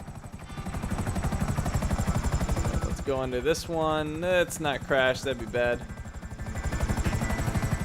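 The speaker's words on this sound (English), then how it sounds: "This helicopter does not fly as good as the one that we have" A helicopter in Grand Theft Auto V gives a steady, fast rotor chop in the foreground, with a player's voice talking over it midway.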